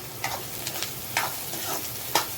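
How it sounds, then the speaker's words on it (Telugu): Fennel seeds are stirred into browning onions in a pan for an onion tomato masala. A steady close sizzle runs throughout, broken by several scraping spoon strokes at an uneven rhythm, with no talk. "1 స్పూన్ సోంపు వేసుకొనేసి బాగా కలుపుకోవాలి."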